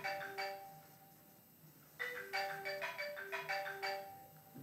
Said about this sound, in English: Looks like my phone's going off, so just a minute while I check this.